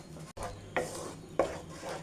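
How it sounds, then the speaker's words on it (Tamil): A spoon stirs thick banana halwa paste in a pan, giving a few soft, close scraping strokes at irregular intervals against a quiet background. "நல்லா கிளறி விடுவோம்."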